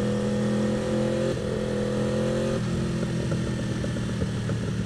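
Aprilia RSV4 Factory sport bike engine pulling hard under acceleration, a loud, steady rising drone with a gear change partway through, close and continuous with no talk.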